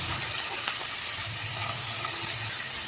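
Onions fry and sizzle in hot oil in a pan, giving a steady, close crackling hiss that carries on without a break.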